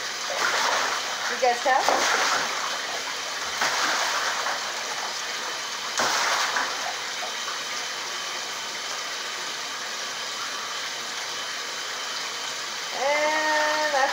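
A pet goose splashes in bath water in short, bursting spurts over steady running water, with a person speaking in between.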